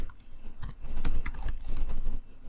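Rapid clicking of keys on a computer keyboard during spreadsheet work, close and clear, in quick uneven bursts with brief pauses.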